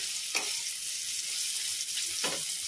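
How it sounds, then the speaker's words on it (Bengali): Bitter gourd slices fry in a pan until crisp and reddish, giving a constant bright hiss of hot oil with two soft stirring scrapes, close and without talk. "আর উচ্ছে ভাজাটা লাল লাল করে ভাজবো একদম।"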